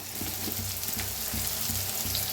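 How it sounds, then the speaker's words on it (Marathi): Onion and tomato roasting in a pan with a little coriander give a steady, close frying hiss with faint low clatter, no voices. "आता मस्त असं भाजलेला आहे कांदा टमाटो आपला"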